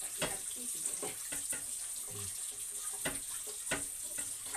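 Hot tap water runs steadily into a pan during spaghetti cooking, with a continuous hissing stream and intermittent clanks and splashes, moderately close with no talk.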